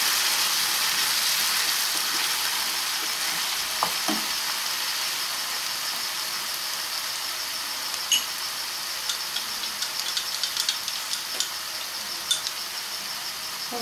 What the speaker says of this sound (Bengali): ভাজা হতে থাকলে এবার আমি আঁচটাকে একটু লো করে নেব